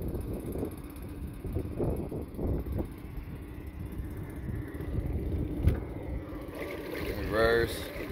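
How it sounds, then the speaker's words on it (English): A 2021 Suzuki 9.9hp EFI four-stroke outboard motor revs in neutral against its rev limiter, a faint, wavering engine drone with wind noise and people talking nearby. "It's the rev limiter kicking in."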